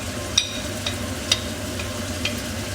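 Tomatoes with turmeric, salt and masala are stirred in a kadhai for kadhai chicken: a low, continuous sizzle with a few sharp spoon clicks scattered through.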